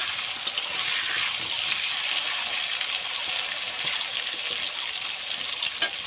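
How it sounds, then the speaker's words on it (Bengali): Potatoes sizzle in hot oil in a pan as they fry to a reddish brown. A dense, even crackle stays near and steady for several seconds with no talking. "এখন দিয়ে দেবো আলুগুলো। আলুগুলো লাল লাল করে ভেজে নেব।"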